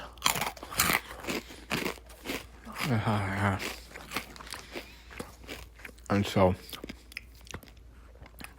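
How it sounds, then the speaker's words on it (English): A man chews and crunches food with his mouth full while talking, giving wet bites, crunches and smacks close to the microphone, mixed through muffled, garbled speech. "by putting a bunch of chewing in it, people are going to skip over this part"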